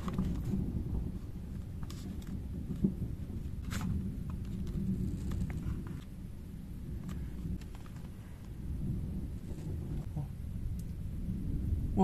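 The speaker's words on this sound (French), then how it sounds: "l'orage arrive bien sur nous." A strong thunderstorm rumbles overhead with low, rolling thunder and steady rain noise, sharp crackles and cracks punctuating the continuous dull roar.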